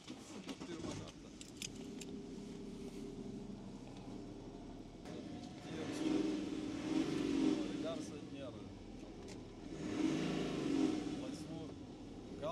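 An Audi car engine turns over and revs in two rising surges, rumbling between them, with people talking over it.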